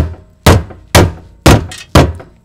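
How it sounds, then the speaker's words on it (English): A rubber mallet strikes a fuel tank strap on a GM 2.2L Ecotec car, four firm, close thunks spaced about half a second apart, each decaying quickly into quiet. "The other thing that's handy to have is a nice rubber mallet. Come back in here, and you can tap down any bends that you might have."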